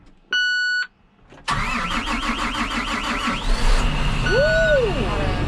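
A new farm tractor for corn planting in West Tennessee gives a brief warning chime, then its engine cranks and catches into a loud, steady idle with whining tones, while a voice briefly exclaims.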